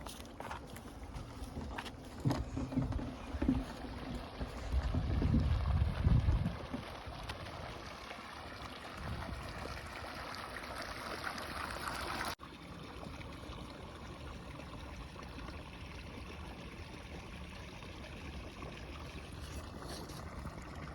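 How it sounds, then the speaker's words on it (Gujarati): In the Gir countryside, a motor pump starts and draws water, producing a faint, steady low rumble with running water. A few soft thumps come near the start, and no one talks. "તો અહીંથી આ મોટર શરૂ કરી દેવાની મોટર શરૂ એટલે પાણી કાઢશે"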